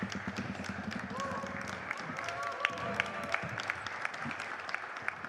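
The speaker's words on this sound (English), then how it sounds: "Please, another round of applause for the panel." Applause from a conference audience for a panel at an Africa-focused event in Oxford, a steady clapping wash that runs throughout at moderate level, with a voice speaking over its first couple of seconds.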